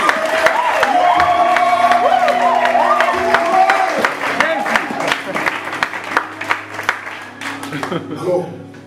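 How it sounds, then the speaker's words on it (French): A church congregation applauds and cheers, a dense wash of clapping and raised voices that thins into scattered individual claps toward the end, with a voice calling out over the crowd. "Quelqu'un acclame encore pour le Seigneur."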